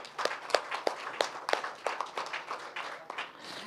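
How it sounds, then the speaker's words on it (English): Applause from a parliamentary seminar audience, a steady patter of many hands clapping at moderate distance, with faint sharper individual claps standing out through the wash. "He merits a very, very big applause for this."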